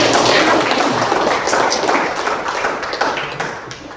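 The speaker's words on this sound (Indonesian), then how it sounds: "Berikan tepuk tangan lagi yang meriah untuk kakak kami" Lively, dense applause from a school audience at an Indonesian student self-growth talk at SMAS Sint Carolus. Many hands clap steadily and loudly for about four seconds with no talk over it, fading slightly at the end.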